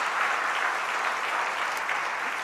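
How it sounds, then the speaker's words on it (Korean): A church congregation claps for its elders in steady, sustained applause, a dense even patter of many hands that carries on without pause. "장로님들 위로의 박수, 격려의 박수를 한번 하면 감사합니다"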